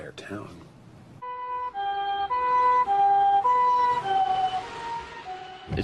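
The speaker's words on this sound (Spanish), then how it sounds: "cuando oyes el sonido de una ambulancia, te da esperanza" An ambulance siren wails in a two-tone alternating pattern, loud and close, steady for several seconds.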